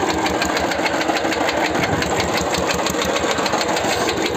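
A small tractor engine chugs loudly and steadily close by, a rough rhythmic putter with constant vibration and no speech.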